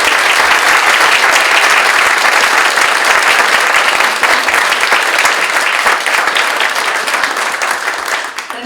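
Loud, sustained applause from an audience at a leadership summit at Bennington College fills the whole stretch, dense and steady before tapering slightly at the end.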